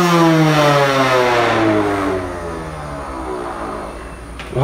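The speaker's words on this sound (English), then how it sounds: "Okay, so Steph was vacuuming" Hoover vacuum cleaner running, a loud motor whine that falls in pitch as it winds down, then a steadier hum and a brief clatter at the end.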